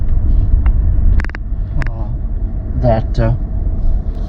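Low rumble of a car cruising through the streets of Tunica, Mississippi, a steady engine and road drone heard from inside the vehicle under a man's speech.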